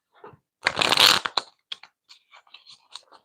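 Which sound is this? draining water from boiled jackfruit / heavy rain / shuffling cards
shuffling cards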